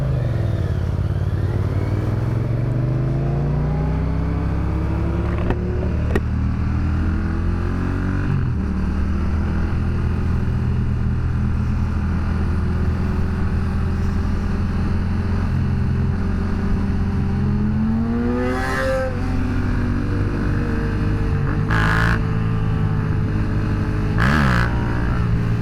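A Yamaha FZ-07 motorcycle idles with a steady, loud engine drone, then its throttle is blipped in several sharp rising revs near the end, heard up close with no talking.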